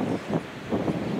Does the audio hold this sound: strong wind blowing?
yes